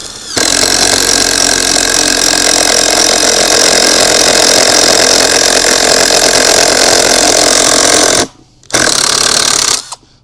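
A loud, continuous mechanical buzzing of an Ozito 18V cordless impact driver hammering steadily for about eight seconds, briefly stopping, then running again before cutting out.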